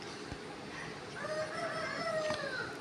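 A video game chicken in Roblox makes drawn-out clucking, crowing-like calls over a steady noisy background, moderately loud and fairly near, with no talking.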